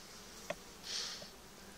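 Honeybees at an open beehive in a weak colony, heard as a faint, brief buzz of a single bee passing close, with a soft tick just before it.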